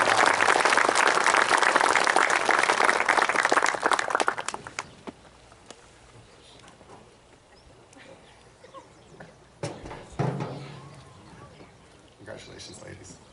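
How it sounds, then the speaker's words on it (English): A round of applause at a 2021 high school graduation ceremony: dense clapping from a crowd for about four seconds, then thinning into scattered claps and room noise, with a few later isolated claps. "if we could just give them a round of applause"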